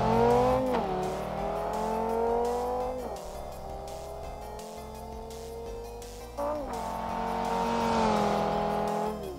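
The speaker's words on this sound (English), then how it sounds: "Shark's car gives me the smooth, exotic flavor in its sound, but it's honestly just more loud than anything." A Viper concept car's engine roars loud and close, revving up in repeated rising sweeps with a smooth, exotic tone. Brief tire squeal breaks in between the throttle pulls, and no voices are heard.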